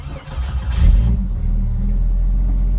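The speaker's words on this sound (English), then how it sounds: "So the engine runs good. And you can hear the exhaust." Jeep engine running with its exhaust note, a loud low rumble rising briefly in a rev before settling into a steady, close idle with no talk.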